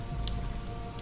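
Steady, dense rain hisses and patters throughout in Rainy Hall in the video game Amnesia, with a faint drip or two on top.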